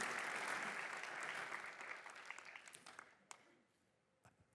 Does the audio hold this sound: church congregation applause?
yes